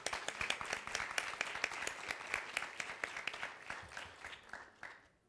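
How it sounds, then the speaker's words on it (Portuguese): Audience applause at the Brazil Conference at Harvard & MIT as Joyce Toyota is called to the stage: dense, sharp clapping from many hands, steady and fairly loud, tapering at the end. "Uma salva de palmas, por favor."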